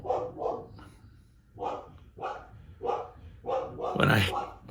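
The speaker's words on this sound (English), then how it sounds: "You hear that bark?" A dog barks repeatedly in a steady rhythm of short barks, fairly close, with one louder, harsher bark near the end.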